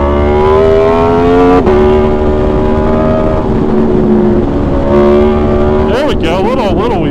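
An Aprilia motorcycle accelerates while being ridden, its engine revving loud and close with rising tones that shift through gears, then quick rapid rev surges near the end, with wind noise throughout.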